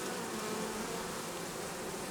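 Close, continuous buzzing of many honeybees around a newly introduced queen in an Alpine hive, a dense steady drone with no other sounds.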